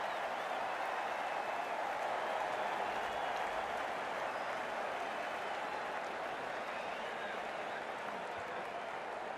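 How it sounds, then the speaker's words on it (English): Crowd at a NACO cricket match, Houston Stallions versus Vancouver Dolphins, applauding and cheering in a steady, dense roar that holds for the whole stretch, with voices blended into the wash. "It's going to be hard for the bowler to focus with the crowd this excited."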